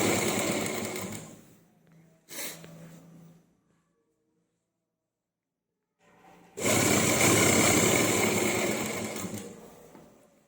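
A sewing machine stitches a kameez lining in two loud, steady whirring runs separated by a few seconds of silence, with a brief burst in between and no talking.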